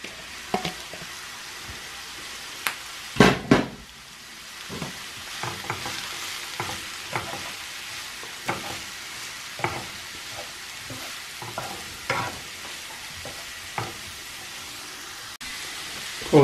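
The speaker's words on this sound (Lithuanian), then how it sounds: "Morkas pilam taip pat apkepti." Carrots and onions fry together in a pan, a continuous sizzle broken by repeated scraping stirs, with a louder clatter of the utensil early on.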